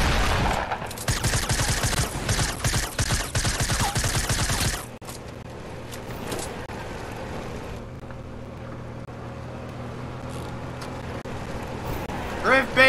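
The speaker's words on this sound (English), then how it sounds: "Why is someone shooting at me?" Rapid bursts of gunfire in a Fortnite battle royale match, a dense loud volley over the first several seconds, followed by a quieter stretch of background game noise and vehicle engine hum.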